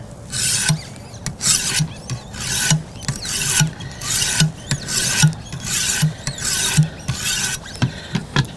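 Wicked Edge WE130 sharpener stones are drawn across a knife edge in about a dozen evenly spaced, rhythmic scraping strokes, close and clear, with no talking.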